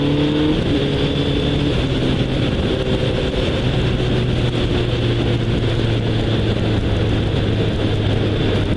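A Kawasaki Z1000 motorcycle engine drones steadily while riding through corners, its pitch shifting as the throttle changes, with constant wind rush over the microphone.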